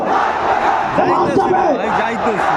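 A large crowd at an Islami Andolan mass rally in Bangladesh roars out a slogan in unison. The loud, massed voices sweep up and down in pitch.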